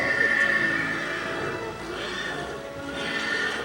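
A horse whinnies in a long wavering call, then again more faintly, over a steady background wash like rain.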